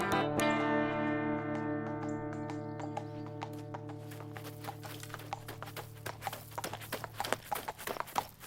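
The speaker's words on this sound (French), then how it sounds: "ralentissez un peu le cheval, j'arrive plus à vous suivre" Horse hooves clip-clopping in a steady walking rhythm, emerging under a fading sustained musical tone and growing more distinct toward the end.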